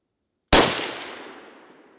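A single loud gunshot from an Italian Carcano carbine rifle fired at an outdoor range, its sharp crack ringing out and trailing off in a long decaying echo after a moment of silence.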